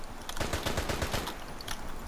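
Rapid bursts of MP40 submachine gun fire in the video game Military Conflict: Vietnam, a sustained string of close, loud shots running through most of the two seconds with no talk.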